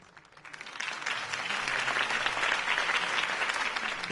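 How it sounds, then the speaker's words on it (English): A crowd in Telltale's Batman game applauds after Harvey Dent's campaign speech, the clapping swelling from a few hands into a dense, sustained ovation. "If only Mr. Wayne, my campaign's largest backer, could have heard that applause"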